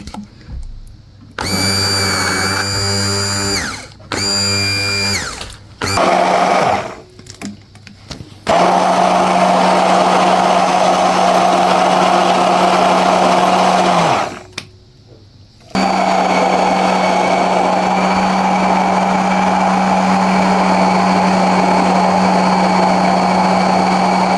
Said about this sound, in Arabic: وبعدين هبتدي بقى اضرب يعني اخلطهم لحد ما يعمل بقى صوص الشوكولاته